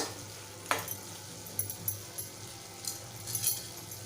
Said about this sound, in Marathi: आपण झाकण उघडूया आणि चेक करूया भाजी शिजलं का फिरवून घेऊया